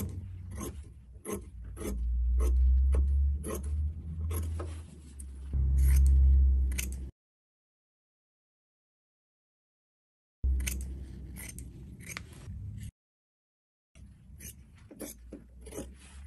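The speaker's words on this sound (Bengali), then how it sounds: "তো আমি 1/2 ইঞ্চ করে রেখে দিয়ে কেটে নিচ্ছি।" Scissors snipping through burqa fabric, leaving a half-inch margin, in quick repeated crisp cuts. There are two silent gaps, and then more short bursts of cutting follow.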